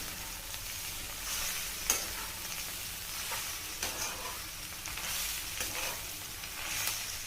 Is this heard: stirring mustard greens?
yes